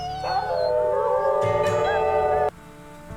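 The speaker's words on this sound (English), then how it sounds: "Let's maybe do a howl." A wolf in the game WolfQuest gives a loud, sustained howl with wavering pitch and layered harmonics, held for about two and a half seconds before cutting off into quiet ambience.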